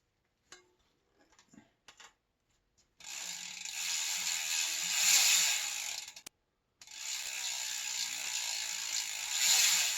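A few faint clicks, then a long, fast, even ratchet buzz from a spinning budget bicycle freehub on a singlespeed converted to 1x8, stopping briefly and starting again, close up and with no talking.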